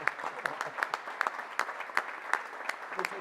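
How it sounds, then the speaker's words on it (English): Audience applause at a civic event for the new Louisville Gardens, sparse and moderately loud, with distinct individual claps popping out of a steady patter of hands for a few seconds. "We need to give her a round of applause for her championing this project"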